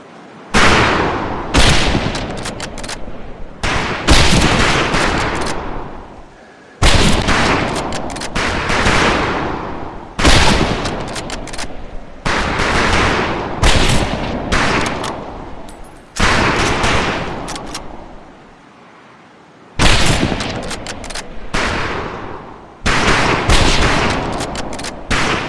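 Rifle volleys at a firing range in Medal of Honor Pacific Assault, with loud, close bursts of repeated shots in separate clusters and short quiet gaps between them.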